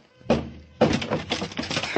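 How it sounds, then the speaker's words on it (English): Two heavy thuds and a crashing burst as a door is kicked open in a 1950 radio crime drama, the second impact followed by rattling splintering noise, close and loud. "I'll kick it open."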